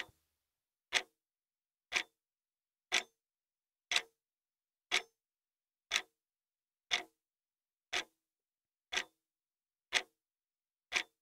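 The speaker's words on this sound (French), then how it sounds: "laissez le temps s'écouler au rythme du tic-tac de l'horloge" A clock ticks steadily once per second, eleven crisp, evenly spaced ticks in an otherwise silent, quiet room with no voices.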